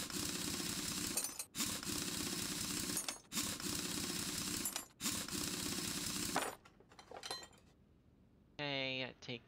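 A tire comes off in Car Mechanic Simulator 2021 with four long bursts of loud rapid mechanical rattling separated by short gaps, followed by quieter clanks and a brief voice.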